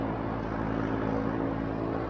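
A light propeller airplane passes by outdoors, a steady droning engine hum at moderate distance, fairly quiet and unbroken, with no talking.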